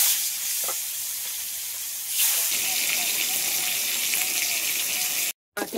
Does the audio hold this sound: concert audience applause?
no